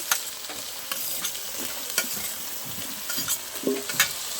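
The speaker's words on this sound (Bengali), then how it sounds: "আর আমি এখন একসাথেই ভাজবো" Plantain and potato pieces frying in a pan with onion, tomato and green chilli for a fish curry, a steady close sizzle with intermittent stirring scrapes and clinks, no talk.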